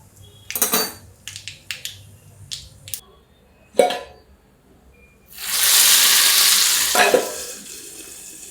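Metal utensils clink and scrape a few times, then a loud burst of sizzling erupts as curry leaves, asafoetida and chilli hit hot oil for coconut chutney tempering, hissing steadily up close.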